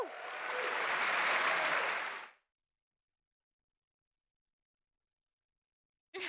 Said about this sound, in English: with a nice, great big applause